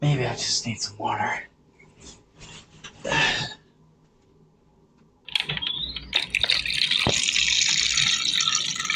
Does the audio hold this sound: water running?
yes